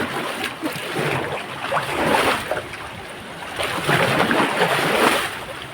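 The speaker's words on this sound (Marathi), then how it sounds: "तर आपण पाणी हलवून घेऊयात." Water is churned by hand in a Kokani fishing pond full of live fish, giving a continuous close sloshing and swishing that rises and falls in waves.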